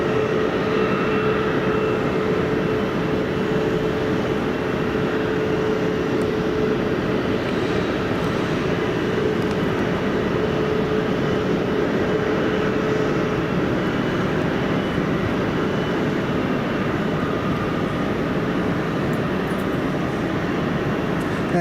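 Aer Lingus Airbus A321 airliner at Manchester Airport, a steady broadband roar of jet engines sustained throughout, loud and continuous with a faint tonal whine, no talking.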